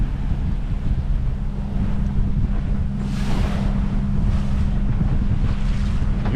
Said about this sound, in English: Got some big waves here.